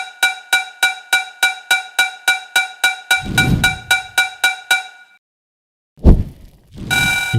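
Sound effects from a homemade Pong game: a quick run of evenly spaced electronic beeps, a dull thud partway through, then silence before two more bursts of harsh noise.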